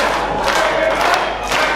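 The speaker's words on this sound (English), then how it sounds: "Fans cheering here to get the adrenaline pumping through the veins of Bruno Nitro" Wrestling crowd cheering loudly at a live pro wrestling event, a dense, sustained roar of fans with swelling shouts, close and continuous throughout.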